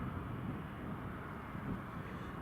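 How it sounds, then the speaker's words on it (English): A Eurowings airliner taking off at Newcastle Airport, a steady, broad low jet roar heard from a distance with no distinct peaks. "Yep, Eurowings is clear for takeoff."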